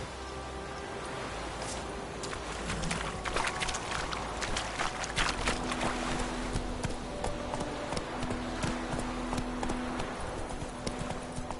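Horse hooves galloping in The Witcher 3, a steady rapid clip-clop held at close range over a constant background wash that sounds like rain.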